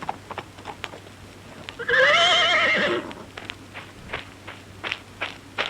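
A horse in a Lone Ranger video game gives a loud, rising whinny lasting about a second, standing out clearly over faint background noise and scattered clip-clop hoof sounds.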